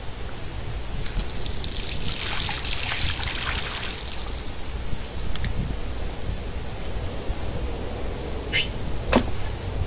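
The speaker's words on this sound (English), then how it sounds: "Last time I wanted to splash some water on my face." Water runs and splashes steadily at a bathroom sink in the video game Life Is Strange, a soft continuous rush with a few brief sharper splashes and clicks near the end.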